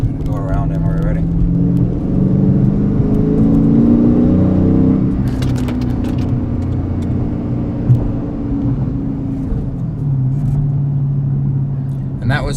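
A car downshifts and accelerates to pass a slower vehicle. The close engine gives a loud, sustained rumbling drone that rises in pitch as it revs, then settles into steady cruising.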